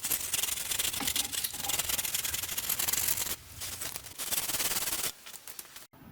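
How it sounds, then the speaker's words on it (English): Steady abrasive sanding on old, partly soft hay wagon wood, a continuous loud scratchy rasp that drops in level briefly near the end. "But in the meantime, I'll get it all sanded up,"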